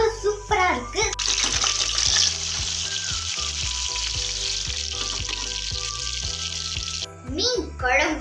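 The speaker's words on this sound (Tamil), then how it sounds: "வஞ்சர மீன் பொரிஞ்சிட்டு இருக்கு" Vanjaram fish fries in hot oil with a dense, steady sizzle and crackle, close up, while a voice talks briefly near the start and end.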